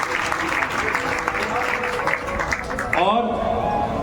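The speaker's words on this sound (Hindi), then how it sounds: "उनके लिए ताली बजाइए, ताली बजाइए।" Audience at a Shiv Mahapuran katha religious gathering claps steadily, a dense continuous applause that gives way to a sustained tone near the end.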